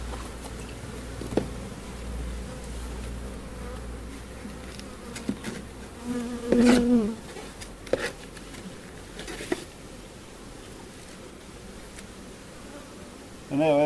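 A steady insect drone of many honeybees around a hive during a pre-harvest American foulbrood inspection hums throughout, with a few sharper knocks and a brief louder buzz partway through.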